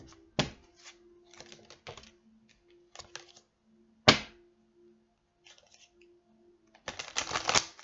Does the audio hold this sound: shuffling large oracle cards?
yes